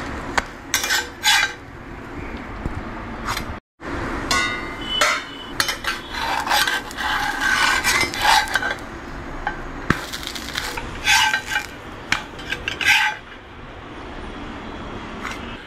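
Rava bhakri breakfast for an Ekadashi fast being plated up: repeated clinks and clatters of plates and cutlery, close and fairly loud, in quick irregular bursts with a brief pause, no talking.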